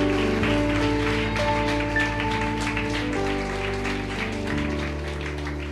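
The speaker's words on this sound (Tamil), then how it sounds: "கைத்தட்டி தேவனை மகிமைப்படுத்துங்க பார்க்கலாம்" A church congregation claps hands during an anniversary evening service, a steady, even patter of many hands sustained throughout beneath held keyboard chords.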